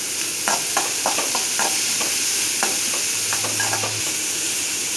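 Onions sautéing in oil for onion uthappam give a steady loud sizzle and hiss, with scattered stirring scrapes and taps over the constant frying noise.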